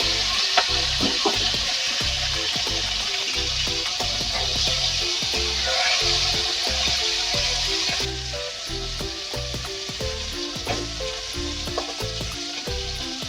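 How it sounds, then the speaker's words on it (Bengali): Small chuno fish fry in hot mustard oil, a loud close bubbling sizzle with frequent crackles and pops that eases a little partway through, with no talk. "এবার মাছগুলোকে আমি ভেজে নেব।"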